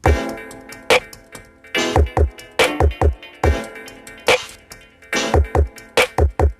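Crisp, ticking drum machine hi-hats from an Akai MPC Live run over a looping beat of deep kick thumps and snappy snare hits, loud and tightly rhythmic.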